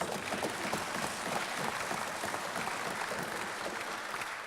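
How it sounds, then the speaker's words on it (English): Members in a parliamentary chamber applaud during a budget speech, a steady, dense wash of clapping from a large room that holds an even level throughout, with no voices over it. "I think we should give them all a round of applause."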